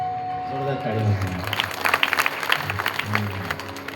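An audience at a Marathi Bhagvat Katha religious discourse breaks into loud, sustained clapping following a speaker's voice, the claps rising quickly and thinning toward the end.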